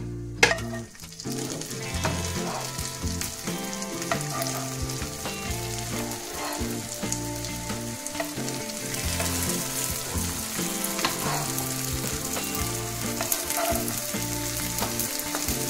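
A batch of potato hash brown patties frying in oil, a loud, steady, close sizzle that runs without a break, with a dense bubbling texture and no voices.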